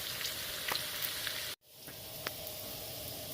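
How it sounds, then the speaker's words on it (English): Bacon and onions fry in a pan toward caramelization, giving a steady close sizzle. A brief cut of silence falls midway, then the crackle resumes with a few sharper pops. "I'm going to fry it all up until it caramelizes with the bacon"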